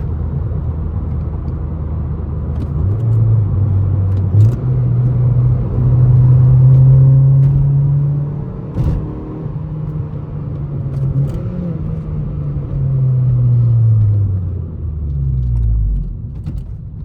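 A 2013 Honda Civic Si with a naturally aspirated engine drives steadily, its engine hum and road rumble rising and falling through gear changes, loud and close from inside the cabin with no talking.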